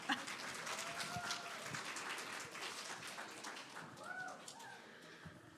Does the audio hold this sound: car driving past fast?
no